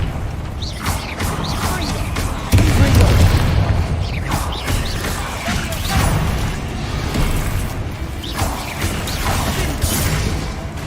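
Confringo blast spells exploding in Hogwarts Legacy combat, repeated booming bursts amid clanking game effects, with a louder blast partway through and a voice calling out over the fight.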